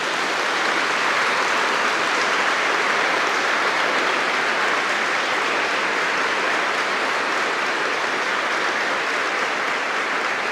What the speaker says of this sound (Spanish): Un aplauso para el Papa